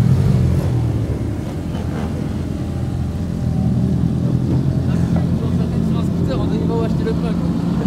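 A Yamaha TMAX Turbo GYTR scooter rides on a race circuit, its engine a steady, continuous drone with mild revving throughout, close and fairly loud, with wind rush and faint talk underneath.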